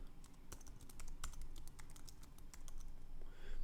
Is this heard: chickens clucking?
no